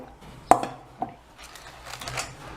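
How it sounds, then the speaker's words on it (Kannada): A crispy moong dal and sago snack snapping apart, one sharp crack followed by a smaller one and then a cluster of lighter crunchy crackles, close and fairly quiet with no talking. "ನಿಮಗೆ ಸೌಂಡ್ದಿಂದಲೂ ಗೊತ್ತಾಗ್ತದೆ ಎಷ್ಟು ಕ್ರಿಸ್ಪಿ ಆಗ್ಯಾವ ನೋಡಿ"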